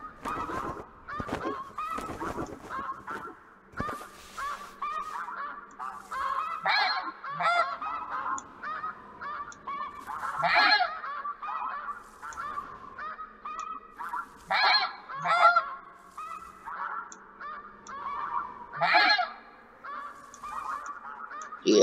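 A large flock of snow geese honks continuously in flight, many overlapping calls rising and falling at a moderate distance, with no other sound standing out.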